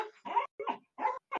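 A dog whines and yips to be let outside, five short, insistent whimpering bursts in quick succession, close and clear with no talking.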